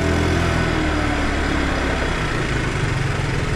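A motorcycle engine runs steadily and loudly close by, a constant rough mechanical drone with no voices.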